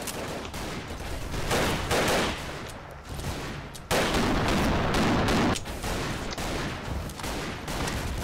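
Rapid gunfire in a video game, with dense bursts of shots and explosions sounding loud and nearly continuous, briefly dropping around the middle before surging again.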